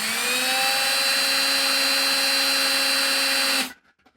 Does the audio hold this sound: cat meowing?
no